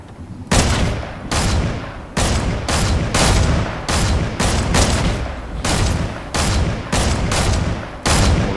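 A Fortnite firefight with heavy automatic gunfire, loud repeated bursts of rapid shots broken by short pauses, continuing close and intense from start to finish.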